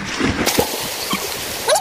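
Children dunking into cold water at the Karlan picnic spot near Abbottabad, a few quick splashes and sloshes close by with light voices in the background.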